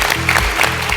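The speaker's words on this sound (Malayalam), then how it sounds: "ആ നല്ലൊരു ക്ലാപ്പ് കൊടുത്തേ" A studio audience at a comedy show claps in a dense, loud burst of applause that fills the whole moment.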